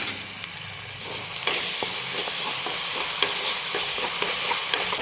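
Garlic and coconut paste sizzles steadily in a hot pan for a dhaba-style whole masoor dal, with a spoon scraping and stirring at irregular intervals, close and continuous with no talking.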